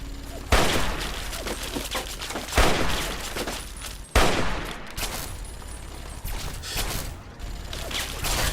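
A super mutant in Fallout 3 fires a minigun, a dense, sustained rattling burst of game gunfire with a few sharp louder bursts, loud and close throughout.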